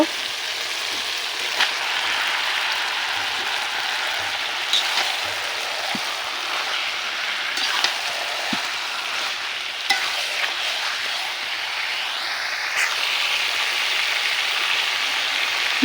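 Cut meat dropped into hot spice paste frying in oil for a home-style curry, giving a continuous bright sizzle with scattered crackles and occasional stirring scrapes, fairly close and steady throughout.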